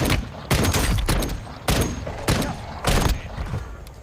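Rapid bursts of gunfire from Call of Duty Warzone, four loud volleys about every 0.6 seconds with short gaps between them, close and dominant with no talking.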